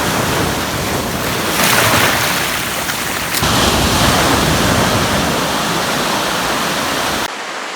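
Ocean surf washing onto China Beach in Juan de Fuca Park near high tide, a loud, continuous roar of breaking waves close by with steady wind noise and no talking.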